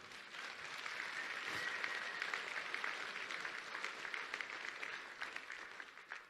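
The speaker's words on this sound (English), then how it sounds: "Give him another round of applause." An audience at a lecture applauds a guest, a steady wash of many hands clapping that swells in the first two seconds and then holds at a moderate, somewhat distant level with no talk over it.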